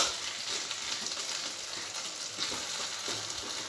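Food fries in a pan in a home kitchen with a dense, steady sizzle and faint crackles throughout, close and alone without talk.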